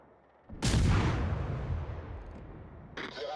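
A heavy naval gun salvo from the French destroyer Le Terrible in the World of Warships game, one booming blast with a long rumbling tail and a second, fainter burst starting near the end.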